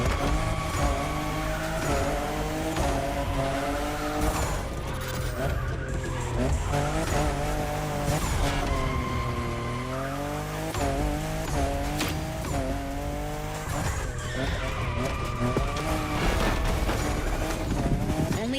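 Racing-game engine roar of a fifth-generation Toyota Supra in The Crew Motorfest, loud and continuous with shifting pitch sweeps and squealing tires as it skids through turns, steady throughout with no talking.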